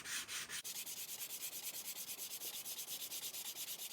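A small handmade sanding board covered in sticky sandpaper rubs back and forth over wood on the lower deck of an HMS Thorn model ship, removing glue in quick, even rhythmic strokes, close and fairly quiet.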